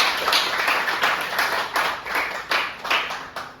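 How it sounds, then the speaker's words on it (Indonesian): A classroom of students applauding, a dense run of fairly loud, close-up claps that pulses for several seconds without any talk. "kita berikan aplaus untuk yang jawab"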